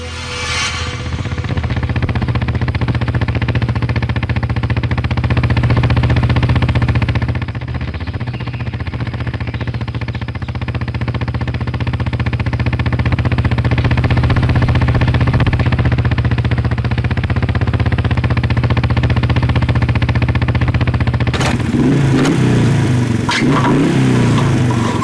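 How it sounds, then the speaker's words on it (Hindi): Malfunctioning motorbike engine running with a loud, rough, continuous drone that rises and falls slightly in pitch, heard close throughout, ending in clattering mechanical noise. "बाइक खराब है।"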